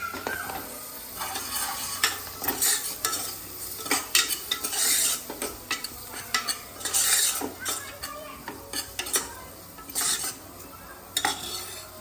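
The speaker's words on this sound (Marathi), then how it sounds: "आता टाकूया आपण टोमॅटो बारीक चिरलेला" Finely chopped tomato goes into a pan for misal and is stirred, giving a steady run of scraping spoon strokes and metal clatter over a soft sizzle, close and moderately loud with no talking.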